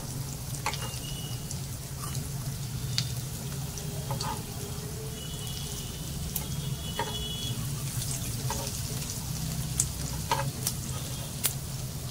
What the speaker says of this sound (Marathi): एकदम कमी तेलामध्ये लो टू मीडियम फ्लेम ठेवणार आहे आणि भाजून घेणार आहे छान अशा खरपूस